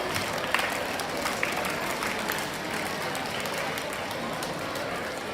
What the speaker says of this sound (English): Let's a big hand clap for yourself